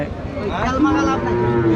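A heifer lows at a busy rural cattle market in Bangladesh, one drawn-out moo rising over a constant crowd murmur and nearby talk.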